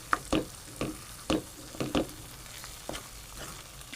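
Mushrooms cooking in a pan give a low sizzle, broken by about eight sharp scrapes and clacks of a spatula stirring at a quick, uneven rhythm, close and fairly quiet.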